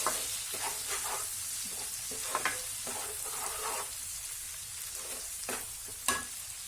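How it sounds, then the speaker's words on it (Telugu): Ginger garlic paste fries in a pan with a close, steady sizzle, punctuated by periodic scraping and knocking strokes as it is stirred. "ఆ స్మెల్ అంతా రా స్మెల్ పోయే వరకు వీటిని ఫ్రై చేసుకుందాం"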